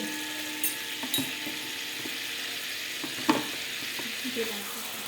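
Chopped onions frying in butter for cheese egg bhurji, a soft, even sizzle held throughout with a few light taps and scrapes of a spoon on the pan, fairly quiet and close, no speech.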